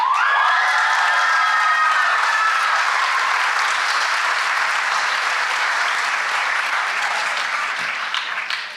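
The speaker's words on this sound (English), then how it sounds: "A special round of applause to Sita Torrey." Sustained applause from a large crowd, steady and loud, with a few cheers at the start, gradually tapering off at the end.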